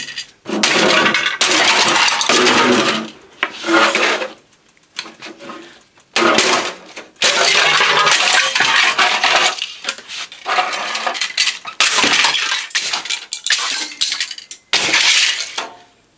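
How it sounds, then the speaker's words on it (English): Hammer blows smashing an old ABS plastic computer monitor case into pieces, a series of loud, sharp cracking and clattering impacts in irregular bursts with brief pauses, plastic fragments rattling, close up and without talk. "computer case, hammer, and smashes really easily"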